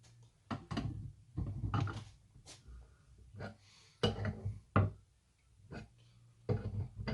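A crankcase installer tool slowly winds a crankshaft up into tight case bearings. Quiet, intermittent creaks and mechanical clunks come in irregular bursts with short pauses between them. No talking is heard.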